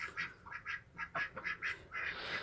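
Several ducks quack in quick, uneven bursts close by, a lively run of nasal calls with brief gaps between them.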